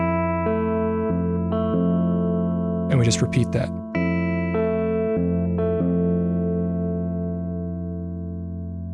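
Electric guitar with effects playing a repeated F-based chord sequence for a bridge transition in a song, sustained notes with a brief talking voice in the middle.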